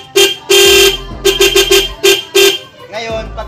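A car's stock horn honks repeatedly in short and longer blasts, loud and close, with an engine rumbling underneath.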